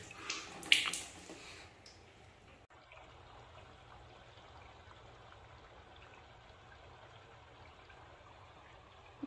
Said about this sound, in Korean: 물소리가 계속 나고 있습니다.